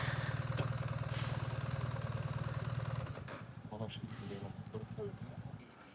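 Heavy trucks rumble on a road with a loud, steady low engine drone that eases off midway into a quieter idle, and people talk over the traffic.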